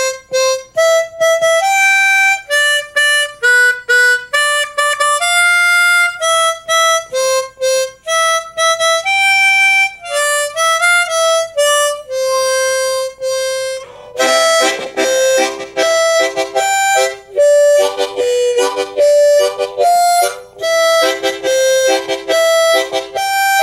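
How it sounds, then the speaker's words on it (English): Harmonica played by the pucker method, single notes without chords, carries a bright, close melody of short and held tones that grows busier and denser in its second half, played alone with no talk. "you can play that same song using the pucker method without the chords"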